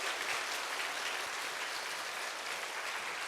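Steady applause from a large church congregation as a pastor comes forward, dense and continuous clapping throughout with no pauses.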